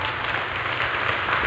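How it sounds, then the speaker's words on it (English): Applause at a United Nations event for a video from Secretary-General Antonio Guterres, a steady, dense wash of clapping from a crowd, even and sustained throughout with no break. "Please, a round of applause for our video from Antonio Guterres"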